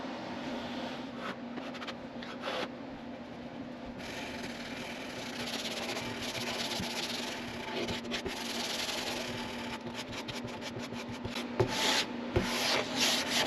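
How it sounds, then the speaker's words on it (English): Fine-grit sandpaper, around 220 to 320, rubbed by hand over a guitar's finish to blend and smooth a repaired area, giving a steady scratchy back-and-forth rasp close up with brief pauses and no voices. "I think we can just sand that back now"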